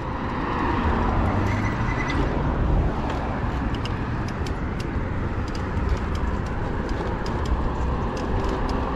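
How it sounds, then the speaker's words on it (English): Light road traffic passing on a quiet evening street, a steady wash of tire and engine noise with one vehicle swelling past early on, heard from an e-bike ride. "Pay attention to the traffic levels here now. It's kind of tame, quiet, no big deal."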